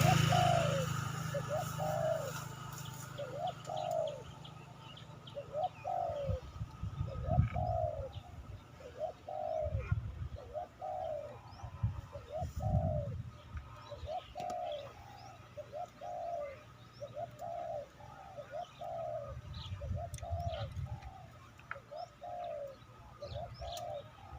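Pigeons coo in a repeated rhythmic series outdoors, fairly close and steady, with low rumbling traffic and other small chirps in the background.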